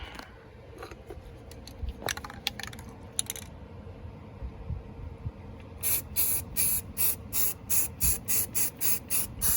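Etching primer hisses from a spray can onto the cab corner of a 1988 Scottsdale truck in a series of short, rhythmic bursts near the end, after scattered light clinks and handling noises.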